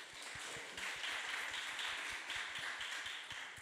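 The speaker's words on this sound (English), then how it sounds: "Round of applause for that." A festival audience at a creative industry talk applauds for a few seconds, steady dense clapping with a few sharper nearby claps standing out, fairly faint overall and with no talking.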